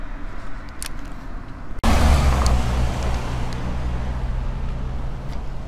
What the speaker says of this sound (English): And here comes a car now.